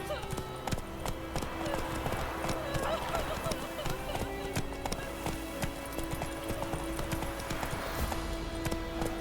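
Roach, a horse in the video game The Witcher 3: Wild Hunt, gallops with rapid rhythmic hoof clip-clops that continue steadily throughout, faint under game music and a voice.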